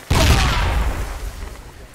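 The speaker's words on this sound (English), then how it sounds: "Oh, that was a really good frag." A frag grenade goes off nearby in the tactical shooter Project Reality, a single loud, sharp blast whose deep rumble and debris tail die away slowly over the next two seconds.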